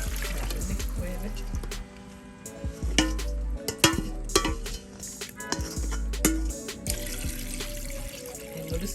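Liquid pours and splashes into a pot of oxtail for Sunday lunch, a steady close trickle broken by clinks, stirring and bursts of louder splashing.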